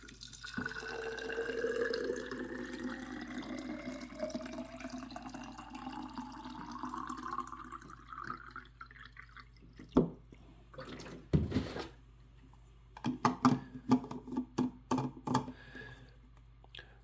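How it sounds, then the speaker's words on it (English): Room-temperature distilled water pours into a hydrogen water bottle, a steady trickle with a rising fill tone for several seconds, followed by a few scattered knocks and clatters near the end. "So I'm using distilled water,"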